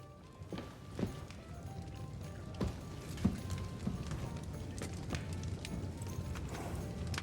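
Horse hooves clip-clopping at a steady walking pace in the video game Kingdom Come Deliverance 2, with irregular louder hoof strikes over a low ambient background.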